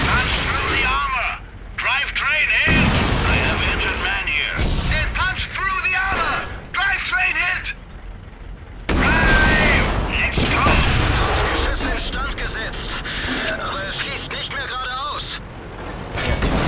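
Tank cannons in the World of Tanks Clan Wars battle fire repeatedly, booming shots and rumbling blasts at irregular intervals beside constant engine and battle noise, with voices talking over much of it.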